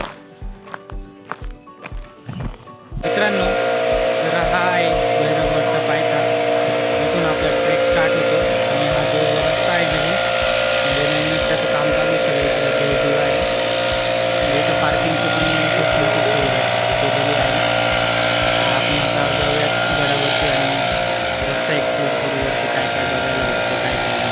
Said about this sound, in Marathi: आपण बाईकने एकदम गडाच्या पायथ्याशी जाणार आहोत